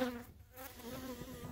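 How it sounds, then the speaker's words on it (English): A newly emerged, pale honey bee crawling on a hive frame during a beekeeping inspection, giving off a soft, steady, faint buzz close by, with a low background drone and no one talking. "She's a baby bee. She's brand new."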